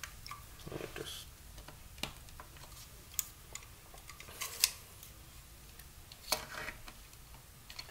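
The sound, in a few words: new blade being slid into a craft knife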